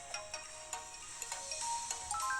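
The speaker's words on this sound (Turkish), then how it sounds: "Şu anda a telefon çalıyor." A phone ringtone sounds in a video game, a repeating pattern of bright electronic chimes, fairly quiet and with no talk over it.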